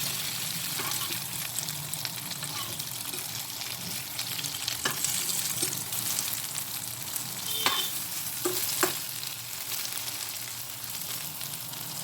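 Eggplant slices fry in a pan with a steady, close sizzle and hiss, broken by occasional sharper crackles and pops, and no voices.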